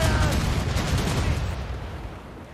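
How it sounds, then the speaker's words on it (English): Rapid booming cannon blasts from a naval battle in Assassin's Creed Rogue roll continuously, loud and dense, fading slightly toward the end. "That's so much cannon fire."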